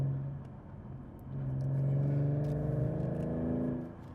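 A 3.7-litre V6 Ford Mustang with about 60,000 miles being driven, its engine droning steadily from inside the cabin and rising into a fuller hum partway through.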